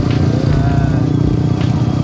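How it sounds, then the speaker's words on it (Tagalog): A motorcycle tricycle ridden on the road in General Santos, South Cotabato, its small engine chugging steadily and close throughout, with faint talk under the motor noise. "Sakay kami sa motor. Sa motor. Ito ang tricycle dito."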